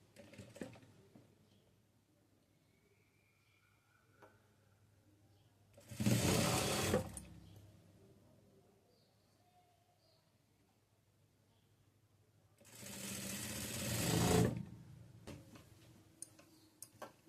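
A sewing machine stitches a frock-style nighty in two loud bursts of rapid whirring, each lasting about two seconds, with quiet room noise and faint handling sounds in between.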